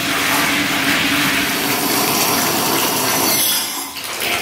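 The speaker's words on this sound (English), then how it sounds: "Let's get the bathtub all filled up with water and good to go." Tap water pours steadily into a bathtub, a dense continuous rushing splash that stays loud and close throughout before easing slightly at the end.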